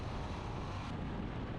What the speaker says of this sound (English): Oh, it's got a lovely noise from the exhaust.